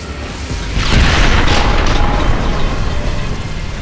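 Explosions blow up enemies in the shooter Bulletstorm: a loud, deep boom swells up and rumbles on as a sustained roar, heard alone without talk.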